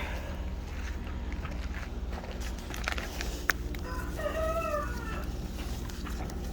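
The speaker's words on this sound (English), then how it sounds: "He is getting so vocal, that rooster is" Backyard rooster crowing once mid-distance, a short wavering call rising over a steady outdoor hum with faint farm noise around it.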